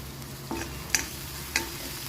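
Ginger garlic paste and chili powder fry softly in a pan while being stirred, with faint sizzling under a few brief scraping clicks spaced about half a second apart and no talking.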